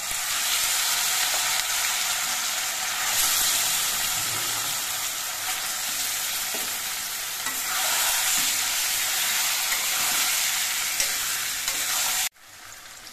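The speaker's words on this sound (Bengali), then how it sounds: "রসুনটা ভাজা হয়ে একটা সুন্দর সেন্ট বেরিয়েছে। এবার এর মধ্যে আমি চিকেনগুলো দিয়ে দিচ্ছি।" Chicken pieces hit hot garlic-fried oil in a pan and sizzle steadily and close up, with light stirring scrapes, before the sound cuts off abruptly near the end.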